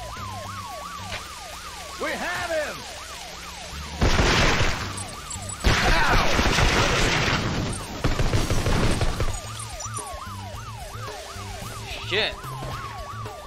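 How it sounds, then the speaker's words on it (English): A siren wails in the CT Special Forces: Fire for Effect video game, rising and falling steadily over and over through the whole stretch, with loud bursts of gunfire, explosions and shouted voices. "And that siren keeps going around and around and around and around."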